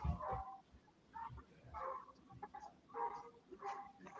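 At a sport dog competition, a dog barks in a series of short yips and barks from some distance, faint and spaced about half a second apart, with a low background rumble.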